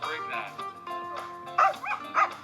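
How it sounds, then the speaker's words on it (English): A dog gives a few short yips and barks, close and fairly loud, mixed in with people talking nearby. "There's a dog swimming with a dolphin."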